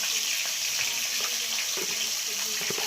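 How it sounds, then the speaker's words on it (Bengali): Salt frying in a hot pan while cooking at home, a steady bright sizzle with scattered soft pops and clinks running continuously throughout. "লবণ একটু ভালো করে ভেজে নিই"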